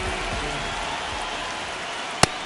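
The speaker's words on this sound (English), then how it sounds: "This rain is not letting up." Steady rain falls on a ballpark in MLB The Show 26, a dense even hiss close by that is broken once by a single sharp click.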